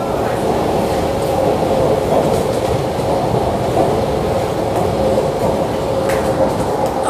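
A train rolling on without stopping, heard from inside as a loud, steady rumble with rail noise throughout, and people talking over it.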